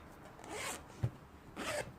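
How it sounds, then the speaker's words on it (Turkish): A zipper on a children's felt activity book is opened and closed, producing a few short, soft rasping zips close by with no talk. "Burada fermuar açıp kapayarak parmak kaslarını çalıştırıyorlar."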